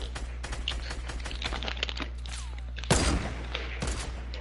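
Rapid gunfire in an online shooter game, a dense run of sharp cracking shots with a louder heavy blast near three seconds and another burst near four, over steady game background hum.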